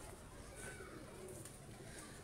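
A pigeon coos softly and faintly among birds at a pigeon-keeping loft, with a few low cooing calls over a steady background hum and some nearby voice.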